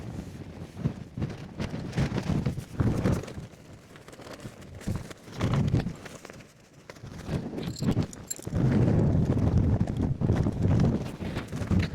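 Strong storm wind buffets a Nordisk Svalbard tent, with gusty rumbling roars against the microphone and fabric that surge and ease over several seconds, building to a heavy sustained blast near the end.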